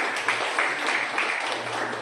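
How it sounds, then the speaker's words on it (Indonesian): Church congregation applauding during a sermon, a steady dense wash of clapping throughout with a low tonal hum beneath, no distinct voices standing out. "Berikan tepuk tangan."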